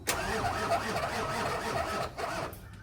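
An abandoned OBS Ford F250 pickup with the 7.3 engine cranks and catches, then churns in a rough, lumpy run that rises and dips before settling, loud and close with no voices.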